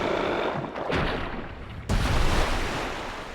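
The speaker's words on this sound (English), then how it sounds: "Weird that there's like a second explosion from the bomb arrow." Bomb arrow detonation in Zelda: Twilight Princess HD, a rumbling game explosion that swells, eases, then a second sharp blast bursts out and rolls on through the rest of the moment.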